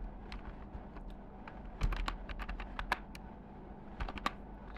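Quiet typing on a computer keyboard, with a burst of quick individual key clicks and a few louder taps, heard close and alone without talk.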